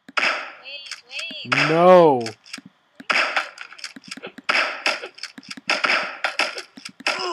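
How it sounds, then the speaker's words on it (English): Shotgun blasts ring out in the stick-figure battle game Stick War, sharp bursts spaced between excited player voices and game sounds, with people talking and shouting throughout. "That fucking shotgun's overpowered."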